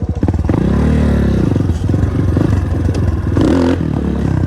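A 250 CRZ dirt bike engine roars close and loud, revving up and dropping back as it climbs through the gears, with rising and falling pitch sweeps and mechanical clatter throughout.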